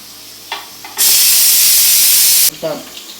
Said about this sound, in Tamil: ப்ரெஷரை ஃபுல்லாக ரிலீஸ் பண்ணிடலாம்.